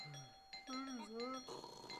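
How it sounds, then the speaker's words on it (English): A doorbell chimes in a house, its tonal ding-dong notes ringing clearly while voices talk over and around it. "The doorbell."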